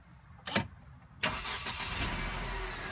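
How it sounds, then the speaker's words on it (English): A 2014 Mercedes C250 engine cranks and fires after a brief electrical click, then settles into a steady close idle hum for the rest of the moment. "start the car"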